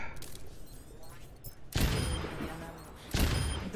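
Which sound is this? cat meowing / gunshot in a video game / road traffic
gunshot in a video game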